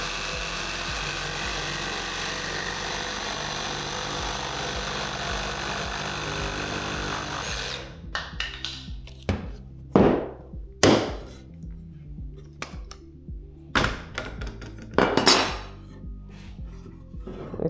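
A DeWalt XR jigsaw cuts along a clamped speed square, starting with a long, steady buzzing drone of the blade, then giving way to a run of sharp knocks and rattling bursts of tool noise, close and with no voices.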